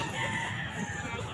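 A rooster crows briefly at a Sunday pet market at the Grotto, its call faint and somewhat distant amid general outdoor crowd noise.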